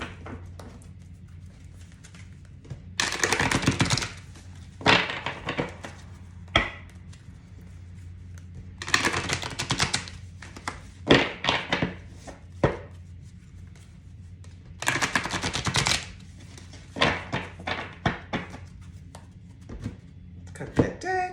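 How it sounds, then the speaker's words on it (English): Tarot cards being cut and shuffled at a reading, giving bursts of crisp riffling and slapping at close range, with a few spaced flurries and quieter taps between them. "Cut that deck."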